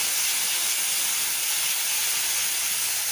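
Water splashed into a pan of dry-fried cumin powder and spices for a Bengali moong dal with fish head and bottle gourd sets off a loud, steady sizzling hiss that fills the whole stretch with no talking.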